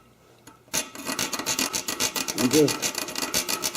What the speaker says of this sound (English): Got one foot up on the intake and just crouching down and sawing. Got my hacksaw here